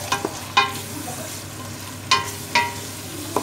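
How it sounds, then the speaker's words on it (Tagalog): Tuna and cabbage sautéing in a pan, with a steady low sizzle broken by several sharp scraping stirs of a utensil against the pan, close and moderately loud. "So, ganyan lang ang pagkaluto. Gisa lang natin siya"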